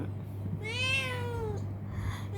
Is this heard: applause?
no